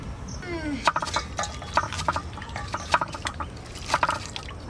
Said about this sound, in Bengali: এই দেখেন ডাল সেদ্ধ হয়েও গেছে।